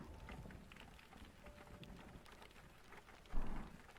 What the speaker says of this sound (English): And the rain is slowly falling.